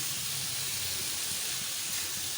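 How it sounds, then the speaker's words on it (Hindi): Macaroni with spices sautéing in a pan gives a steady, even sizzling hiss that fills the whole clip, close and moderately loud, with no voices. "थोड़ी सी सौते करें, साथ ही तमाम स्पाइसेस डाल दें।"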